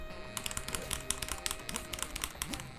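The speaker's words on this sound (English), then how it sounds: "I'm pressing the arrow keys here" Arrow keys tapped on a computer keyboard during a Descenders gaming session, a rapid, irregular run of close, crisp key clicks and presses continuing throughout with no talking.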